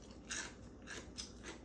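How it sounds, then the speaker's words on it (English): Someone bites into raw cabbage leaves, giving three or four crisp, crackly crunches in an irregular rhythm at close range, with no talk. "I love the crunch of the salad when you bite into it"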